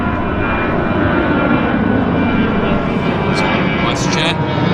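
WestJet airplane at Vancouver YVR airport: a loud, steady roar of aircraft engines close by throughout, with someone talking over it.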